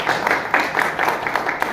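An audience claps for a guest at a book presentation, a dense, fairly loud wash of applause running steadily throughout.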